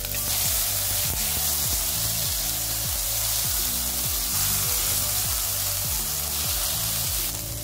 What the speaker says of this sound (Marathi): भांडं तापलंय त्यामध्ये थोडंसं तेल टाकू, थोडीशी जिरे मोहरी, हिरव्या मिरचीचं वाटण केलं ते टाकू